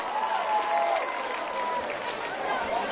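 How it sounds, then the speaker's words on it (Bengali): Audience applause at a school reunion event, a continuous crowd clapping with some cheering mixed in, fairly loud and sustained, with a few voices faintly audible beneath. "তাদের জন্য একটা জোরে করতালি হয়ে যাক।"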